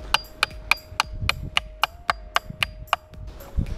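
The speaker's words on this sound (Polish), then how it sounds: "Przydałby się większy młotek, no." A small hammer strikes repeatedly during a coat-rack build in a home renovation, about a dozen sharp, evenly spaced knocks ringing close and loud over a faint steady hum.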